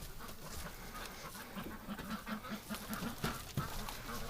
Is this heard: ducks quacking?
yes